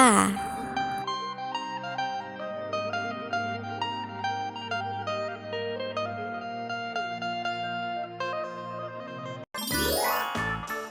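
A bright notification bell chimes with ringing, tinkling tones that sustain over a steady musical backing, ending in a quick rising swoosh.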